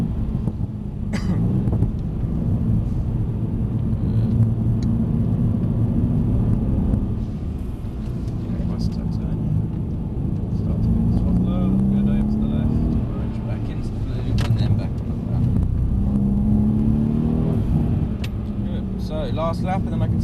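Mercedes-Benz C63s engine pulling hard on a track, a loud continuous in-cabin drone with rising pitch sweeps as the power comes up, under ongoing talk from an instructor and driver.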